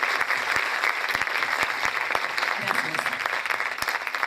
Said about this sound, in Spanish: Un fuerte aplauso a los invitados y a ustedes